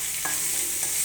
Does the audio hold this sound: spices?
yes